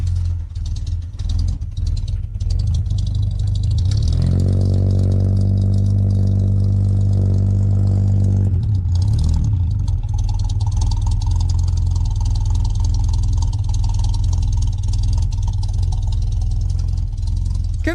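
An original, never-rebuilt Opala classic car engine starts and settles into a steady low idle with rattly texture, rising in a rev around the middle before dropping back to a rumbling idle; close and fairly loud throughout.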